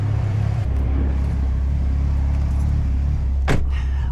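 Idling engine of a 600HP+ Mitsubishi Lancer Evolution X warming up on a rainy day in San Francisco, a steady deep rumble throughout with one brief sharp noise near the end, heard close and alone.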